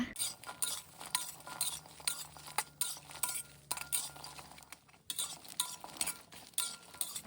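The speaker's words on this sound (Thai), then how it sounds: "ขั้นตอนนี้เราจะคั่วด้วยไฟอ่อนค่ะ คั่วไปเรื่อยๆนะคะ จนเครื่องเขาหอมค่ะ" Garlic, shallots, dried chillies and kaffir lime leaves dry-roasting over low heat in a pan, with steady stirring scrapes and light utensil clinks repeating throughout, close and moderately loud.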